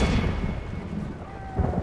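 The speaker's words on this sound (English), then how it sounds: "These are armor-piercing shots" Armor-piercing artillery shots fired in a Middle-earth real-time strategy game, a dense rumble of heavy thuds and booms layered over distant battle noise.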